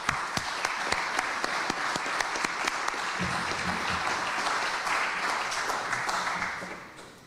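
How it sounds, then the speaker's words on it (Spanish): Audience applause at a book presentation on development project management, steady clapping with sharp individual claps standing out, a low voice briefly heard midway, fading away at the end. "Un aplauso para Carlos."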